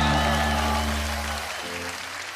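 Studio audience on a Turkish TV talk show applauds in a steady, even wash of clapping over a low musical hum, fading slightly toward the end.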